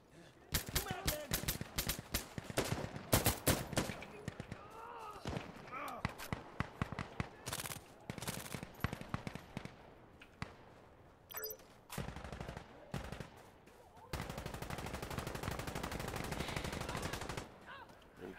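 Rifle fire in Insurgency Sandstorm, rapid loud shots in bursts and long strings with hard kick, some near-continuous automatic stretches, with voices talking between volleys.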